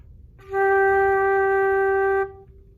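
A single low G flute note held steadily for about two seconds, clear and breathy, with no other sounds around it.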